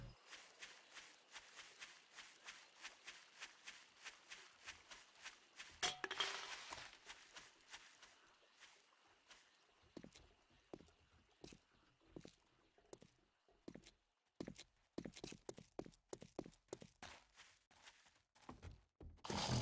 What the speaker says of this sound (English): did you hear those footsteps? I thought that was like a dog galloping up on me